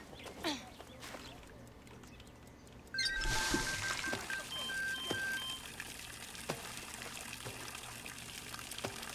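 In the Far Cry 6 game, water pours in a steady trickling stream that starts abruptly partway through and keeps running at moderate level over a background of ambient sound and faint clicks.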